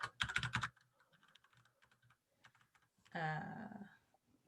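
Keys clatter on a computer keyboard in a quiet room, a quick dense burst of typing, then scattered light taps and a short second flurry, fairly close but soft.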